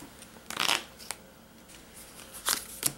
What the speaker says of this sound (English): I'm going to shuffle these up